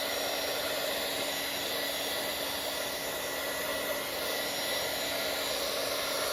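Hair dryer blowing on a wet Bible journal page, a steady, even whooshing roar with a faint whine, constant throughout with no talking.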